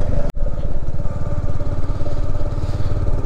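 A motorcycle engine drones steadily and loudly up close while riding the mountain road from Gangtok toward Zuluk, with a brief sharp dropout near the start and a continuous rumbling pulse throughout.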